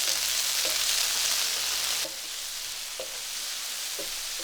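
Tomatoes frying in hot oil with garlic and onion in a sauté pan for Filipino adobong kangkong, a close, steady sizzle with a few soft stirring clacks at intervals and a brief drop in level partway through.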